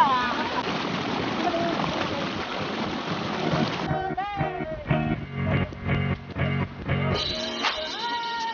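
River water rushes and splashes steadily at Balabagon, Manito, Albay, then continues more unevenly beneath a person talking.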